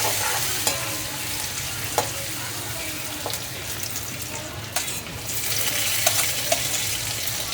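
Cumin, mustard seeds, plenty of garlic and onion sizzle steadily in a pan, with sharp clicks from a utensil stirring and scraping now and then, close and fairly quiet.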